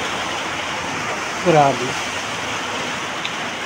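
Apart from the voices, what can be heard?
rain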